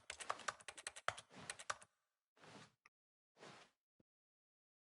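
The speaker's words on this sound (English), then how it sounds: "Hey, that just sound like a keyboard." Rapid computer keyboard typing in a quiet room, a dense burst of clicking keystrokes for about two seconds, followed by two shorter clattering bursts and a few isolated taps, with no voices.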